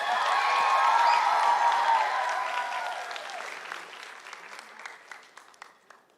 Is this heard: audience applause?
yes